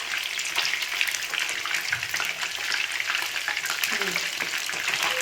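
Fish sizzles as it fries in hot coconut oil for a Tulunadu-style fish curry, a bright, steady crackle with small pops and a brief utensil clink near the end, close by and without talk.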